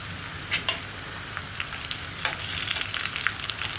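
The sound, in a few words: mustard seeds, onion, dried chillies, curry leaves frying in oil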